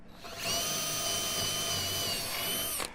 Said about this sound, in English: And I'm going to drill that so that I don't want any splitting